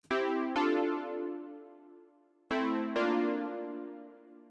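Bright 80s-style synth pad chords struck in two pairs, each swelling briefly then slowly decaying, with a warm, retro quality.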